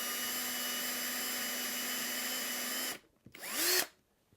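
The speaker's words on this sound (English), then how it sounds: "So we'll drill a hole down here." Up close, a power drill bores a hole in a 3U rack, whining steadily for about three seconds. It then stops, and a short spin-up and wind-down follow.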